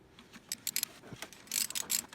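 Ratchet tightening bolts during serpentine belt replacement on a 2008 Chevy Equinox, several quick metallic clicks and clinks in short bursts, close and fairly quiet, with no talk.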